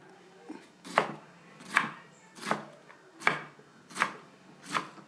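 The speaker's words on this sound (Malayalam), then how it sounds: "ഇനി ക്യാബേജ് ഒന്ന് ചെറുതായിട്ട് അരിഞ്ഞെടുക്കണം" Cabbage being chopped into small pieces on a board, six evenly spaced knife thuds close by, steady and unhurried, with no talk.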